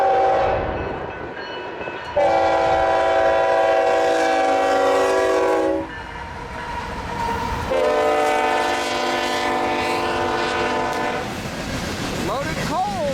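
Loaded eastbound coal freight train with a CNW locomotive taking a crossover between tracks, a loud steady rumble of rolling cars under sustained horn blasts, with a brief pause in the horn before it resumes.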